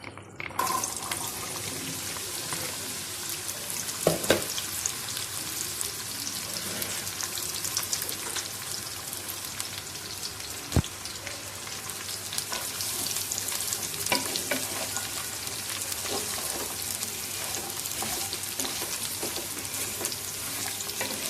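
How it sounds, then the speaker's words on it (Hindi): Bitter gourd (karela) fries in hot oil for a keema karela dish, a continuous close sizzle with scraping stirs and a few sharp knocks scattered throughout, running long and steady with no talking. "मैं ऑयल डाल के पहले इसको कर रही हूँ जी फ्राई, ताकि अच्छे तरीके से फ्राई हो जाए ये"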